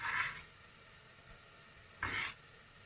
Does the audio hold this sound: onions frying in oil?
yes